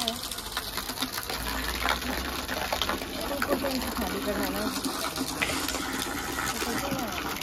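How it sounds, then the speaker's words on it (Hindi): Water pouring and gushing steadily into a container at home, with a constant mechanical hum running beneath it like a pump or motor, while people talk over the sound. "ये पानी भरने का तरीका कुछ कैजुअल है।"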